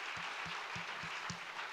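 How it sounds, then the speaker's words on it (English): Audience applause for a departing minister at a Nordic–Baltic security partnership event, a steady even wash of clapping filling the whole short stretch, with no voices over it. "Please, a round of applause for the minister."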